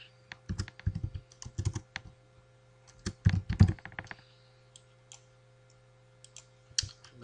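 Typing on a computer keyboard, with bursts of quick key clicks clustered near the start and middle, then sparse, lighter taps trailing off over a faint steady hum.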